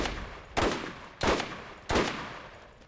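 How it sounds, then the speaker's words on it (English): Three loud bursts of gunfire from the Borderlands video game, each a sharp broadband crack that trails off, evenly spaced and close, with no talk over them. "who is firing at me?"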